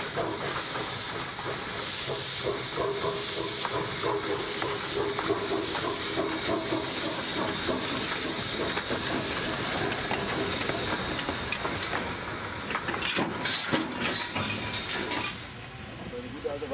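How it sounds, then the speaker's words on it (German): Narrow gauge steam locomotive shunting at a wood-fired depot of the Wassertalbahn in Romania, early morning, with a steady loud hiss of steam and faint rail clatter running throughout, no voices. "Unsere Lok verrichtet noch Rangierarbeiten."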